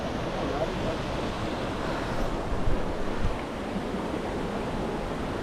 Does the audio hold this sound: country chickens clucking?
no